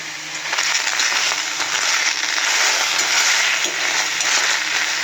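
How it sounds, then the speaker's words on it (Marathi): Tomatoes frying in oil in a hot kadhai for tomato chutney give a loud, steady, dense sizzle that holds without a break for several seconds, close up and with no voices. "त्याच्यामध्ये आता आपण टोमॅटो फ्राय करून घेऊया"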